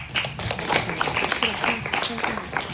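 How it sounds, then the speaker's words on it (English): Scattered audience clapping at a community men's event, individual claps audible at moderate volume with some voices mixed in. "Clap it up for that."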